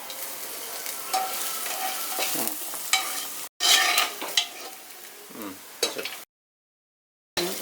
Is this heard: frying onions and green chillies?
yes